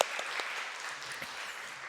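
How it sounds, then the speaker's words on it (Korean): A church congregation at a Wednesday prayer service gives a round of applause, a soft, fairly distant patter of many hands clapping steadily for about two seconds and gradually fading. "우리 한 번 더 격려의 박수, 감사의 박수 드릴까요?"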